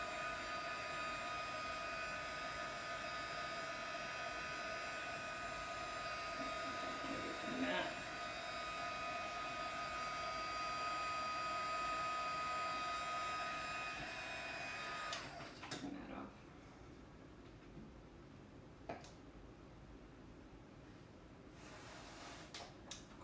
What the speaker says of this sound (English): So I'm just using a heat gun that I have.